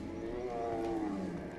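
A bear roars in the prehistoric game Far Cry Primal, a continuous low, growling tonal roar held close and fairly loud for under two seconds, with no talk over it.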